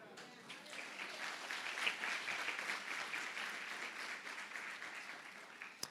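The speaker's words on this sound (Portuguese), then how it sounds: "Você pode glorificar Deus com suas palmas?" Congregation at a church service claps to glorify God, a sustained wash of many hands clapping at a fairly even level, slightly distant, ending with a single sharper clap.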